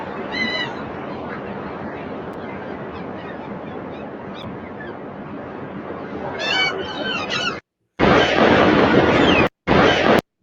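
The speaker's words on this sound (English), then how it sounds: "this is the sound of the ocean" AI-generated ocean waves wash as a continuous broad roar, with honking, goose-like bird calls near the start and again toward the end, then cut into brief separate bursts of surf.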